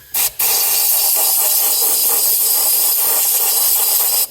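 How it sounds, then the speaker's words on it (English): Compressed air blasts loudly into the carburettor dashpot of an MGB GT, a steady close hiss running for about four seconds after a brief opening puff. "we can get in here to get a bit of compressed air down inside"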